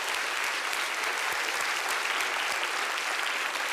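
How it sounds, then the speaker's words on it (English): Audience applause at a robotics demonstration event, a dense, even wash of many hands clapping continuously and fairly loud throughout, with no voices over it. "let's give a big round of applause to our hiders"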